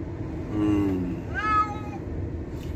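A cat meows twice, a low drawn-out cry followed by a higher rising one, close and clear over a steady background hum.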